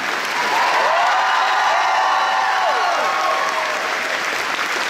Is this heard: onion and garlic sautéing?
no